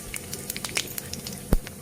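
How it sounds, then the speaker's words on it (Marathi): Mustard seeds and cumin splutter in hot oil for a cabbage dish, giving quiet, scattered pops and crackles in irregular sharp bursts, with one louder pop near the end. "आपली मोहरी छान तडले तडतडलेली आहे"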